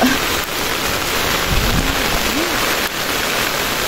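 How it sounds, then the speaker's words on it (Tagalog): Heavy rain pours down in a storm, a dense, loud, continuous roar of drops on surfaces filling the whole span with no break, no talk, and a faint low tone drifting underneath. "Malakas na ulan."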